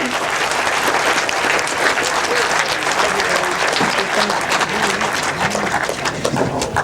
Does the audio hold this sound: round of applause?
yes